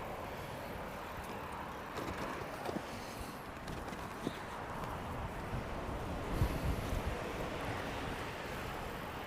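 Cold wind buffets the microphone on an outdoor bike tour in South Korea, a steady broadband rumble with gusts and a few low thumps, heard alone without talk.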